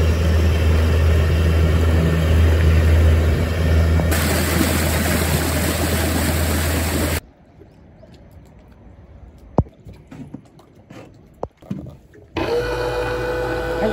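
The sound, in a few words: Yamaha UF-20 boat engine running at 5500 rpm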